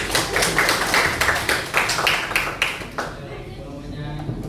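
A high school class claps for a group of students, giving a few seconds of fairly rhythmic unison clapping that stops abruptly and leaves faint room noise.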